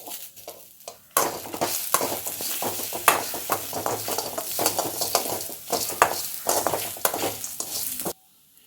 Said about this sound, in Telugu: కొంచెం కరివేపాకు, ఒక రెమ్మ కరివేపాకు వేసుకోండి